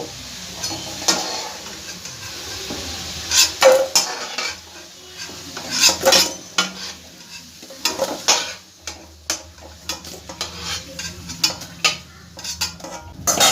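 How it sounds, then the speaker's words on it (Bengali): Fried potatoes being stirred in a pan for jackfruit dalna, with repeated clinks and scrapes of a utensil against the pan over a soft sizzle, close and fairly loud, with no talking. "আলুটা এবার আমার খুব ভালো করে ভাজা হয়ে গেছে আলুটা আমি তুলে নেব"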